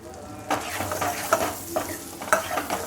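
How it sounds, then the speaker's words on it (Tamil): Cashews, almonds and raisins fry in ghee in a pan for sweet potato payasam, a close, steady sizzle with repeated spoon scrapes and stirring clatters on the metal. "முந்திரி பாதாம் தான் வந்து வறுபட ஆரம்பிச்சிருக்கு திராட்சை பழத்தையும் போட்டுக்கலாம்"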